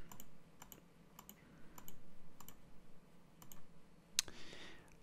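A computer mouse clicks through mixing settings in a software control program in a series of faint, evenly spaced clicks, about one every half second, ending with a sharper, brighter click, with no voices heard.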